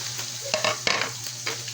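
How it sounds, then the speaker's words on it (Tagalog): Oil sizzles steadily in a pan as paksiw, a fish stew, fries, with a few louder spits and pops breaking through the constant hiss. "nagpiprito ng paksiw"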